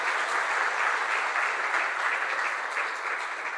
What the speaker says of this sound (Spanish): Un aplauso para Cristian.